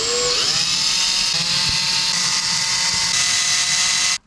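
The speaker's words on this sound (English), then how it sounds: "I'm gonna go ahead and try to pull these screws out." A cordless power drill spins steadily at high speed, backing screws out of a freshly molded fiberglass fender flare on a Toyota JZX81 drift car, with a whining pitch that rises then holds before cutting off abruptly.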